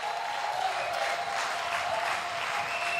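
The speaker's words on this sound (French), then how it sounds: "Oui, allez-y, acclamez, acclamez, acclamez, acclamez, acclamez" A church congregation applauding: dense, steady clapping from many hands fills the space evenly throughout, with faint crowd murmur underneath.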